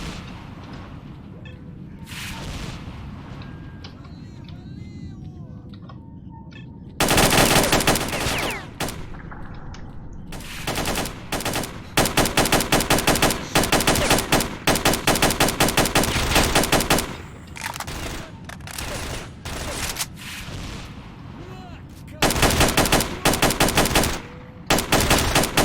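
Kalashnikov rifle fire in the shooter game STALKER, played with HD texture and weapons mods: loud bursts of automatic gunfire break out after a quiet ambient stretch, then repeat in several long, dense volleys with short pauses between them.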